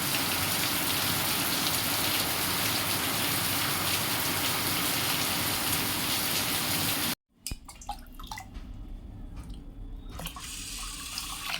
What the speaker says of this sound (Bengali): বাইরে আজকে প্রচণ্ড বৃষ্টি হচ্ছে